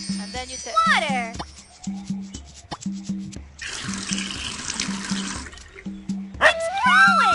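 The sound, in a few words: watering plants in an educational video game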